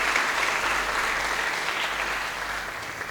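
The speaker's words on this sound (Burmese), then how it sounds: "လက်ခုပ်" Guests at a church wedding ceremony applauding, a dense, steady wash of clapping from a crowd that tapers slightly toward the end.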